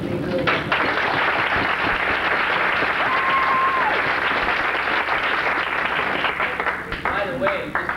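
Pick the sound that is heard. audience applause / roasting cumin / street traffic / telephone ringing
audience applause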